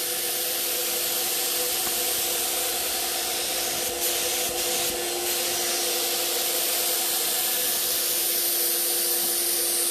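A paint sprayer applying metallic paint to furniture hisses steadily for the whole stretch, a continuous airy spray with a faint mechanical hum beneath, broken only by slight flickers.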